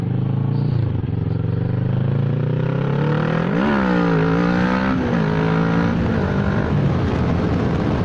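A Kawasaki ER6n parallel-twin motorcycle revs hard during a wheelie attempt, the engine note held high and loud, then rising and dipping in pitch as the throttle is worked, close by with no talking.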